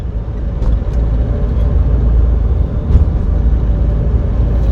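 A Mitsubishi Pajero Sport driving through Bangalore city traffic, with a steady low engine and road rumble heard from inside the cabin and a few faint distant clicks and horns.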